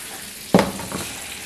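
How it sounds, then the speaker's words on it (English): String beans hit a hot oiled pan for a stir-fry and burst into a sudden loud sizzle, which then settles into a steady crackling hiss. "Okay, now you can hear that. Now that's sizzling."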